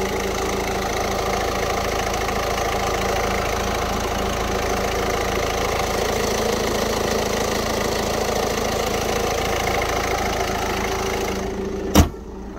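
A 2017 Citroen C4 with a 1.6 diesel engine idling, a steady close knocking clatter with a constant hum, running evenly until a sharp click near the end after which it drops away.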